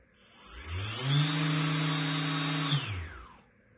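A YOKIJI YKJ-2-150 random orbital sander spins up with a whine, runs steadily at full speed for about two seconds, then the pad brake brings it to a quick descending stop.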